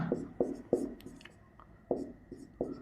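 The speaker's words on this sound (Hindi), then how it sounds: "अब मैं हिंदी में इसको लिख दूं" A pen or marker writing a Hindi word on a board, in short scratchy strokes with small gaps between them, close by and quiet, with no one speaking.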